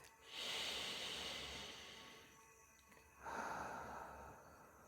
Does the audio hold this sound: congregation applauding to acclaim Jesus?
no